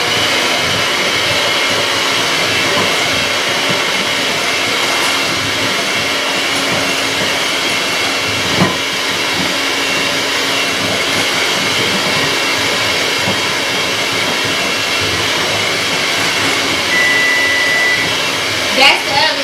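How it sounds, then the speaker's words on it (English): An electric mixer runs at a steady, loud whir as it blends eggs into pumpkin crumb cake muffin batter, a continuous motor hum close up with a few faint knocks. "I'm going to add in my eggs. And I'm just going to blend this out."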